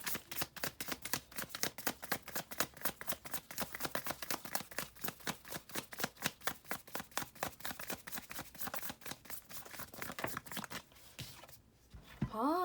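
Tarot cards being shuffled to draw a card: a long run of quick, crisp riffling snaps repeated in a steady rhythm, close and fairly loud, ending with a brief tonal sound.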